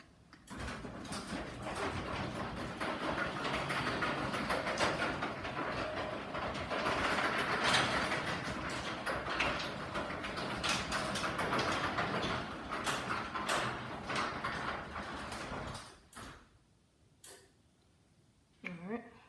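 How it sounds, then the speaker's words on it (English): A spring-loaded residential garage door, its springs wound a little too tight, rolls shut with a steady rumbling clatter of rollers and panels for about fifteen seconds, ending in a thud and then near quiet. "So let's go ahead and shut the door."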